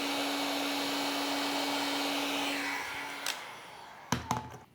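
A heat gun blows a steady airy roar while shrinking a small piece of heat shrink tubing over a shielded power cable, then cuts off, followed by a few sharp knocks and clunks of handling.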